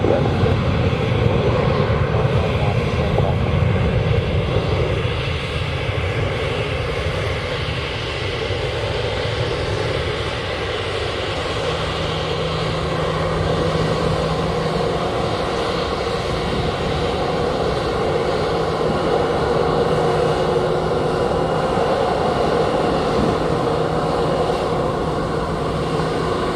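Aircraft engine roar at Montego Bay airport in Jamaica on a sunny day, a steady broad drone holding loud and near throughout without a break, with no talk over it.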